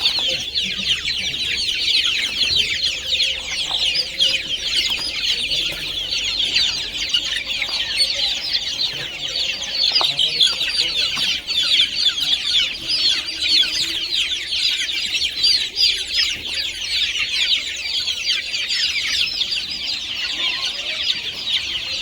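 A flock of desi village hens with fifteen-day-old chicks clucks and peeps steadily in their night shelter, a dense continuous chorus with no talk.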